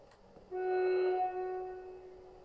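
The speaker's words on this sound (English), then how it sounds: "So I'm going to try and make the train stop at the S symbol." A train in the Train Sim World video game sends up a steady tonal hum that swells in after half a second, holds, then slowly fades. It stays fairly quiet throughout, with no talking.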